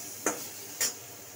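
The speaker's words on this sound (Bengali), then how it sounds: "এবার একটু নাড়াচাড়া করে" Mango chutney with turmeric and salt is stirred in a pan, with two short, quiet scraping strokes against a faint steady background hiss.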